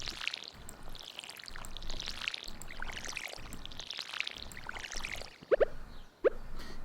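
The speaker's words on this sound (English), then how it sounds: "And then remember to water them." Planted seeds get watered in the farming game Stardew Valley, a series of soft, repeated pouring splashes at a steady rhythm, followed by a few short plops near the end.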